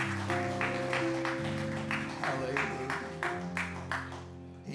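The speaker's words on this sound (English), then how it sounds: "the Lord a hand clap of praise this morning" A church congregation claps in rhythm during a morning service, the steady clapping blending with music played underneath at moderate volume.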